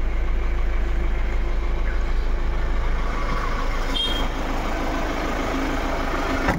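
A second-hand Mahindra Bolero with roughly 89,000 km sits idling, its engine a loud, even low-pitched rumble heard up close, with faint background clatter and no talking.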